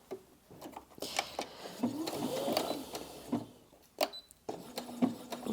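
A Brother Disney Innov-is M380D sewing and embroidery machine runs a triple straight stitch in short bursts, its needle whirring and clicking close by, separated by brief stops and sharp clacks.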